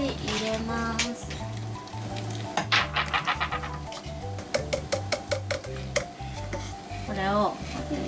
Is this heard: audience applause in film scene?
no